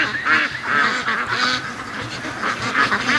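Free-range ducks quack and honk continuously in a noisy cluster close by, several birds calling over one another outdoors.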